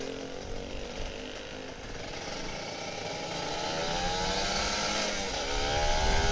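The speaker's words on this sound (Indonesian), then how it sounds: "Kita geber-geber kapan lagi kan di puncak" A Kawasaki Ninja RR 150 motorcycle engine on a mountain road revs in rising, sustained bursts. The buzzy two-stroke drone grows louder toward the end, with no talking over it.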